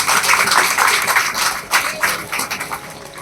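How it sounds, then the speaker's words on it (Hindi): A church congregation claps for Jesus during worship, a dense, continuous wash of many hands clapping together in the room, steady and fairly loud throughout. "तो खुशी तो ताली बजे प्रभु यीशु के लिए"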